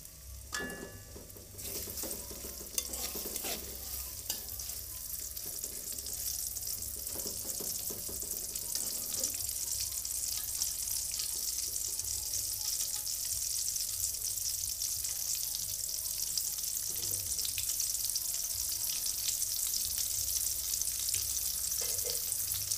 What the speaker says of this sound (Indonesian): Setelah bawang merahnya aku iris tipis, eh, selanjutnya mau aku goreng sampai uh, wangi.